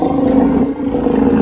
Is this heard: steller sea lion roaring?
yes